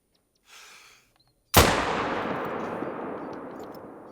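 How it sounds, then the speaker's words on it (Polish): A single loud gunshot fired while hunting in a video game, a sharp crack followed by a long decaying boom, preceded by a brief soft whoosh. "Ale tego też strzela."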